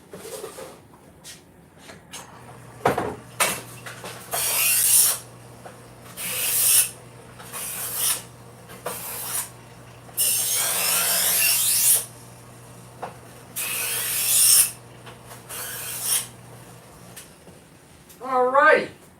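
A JBL knife is drawn repeatedly across a sharpening stone in rough, raspy strokes, about a dozen bursts of a second or so each separated by short pauses, close and clear, with a voice speaking briefly near the end.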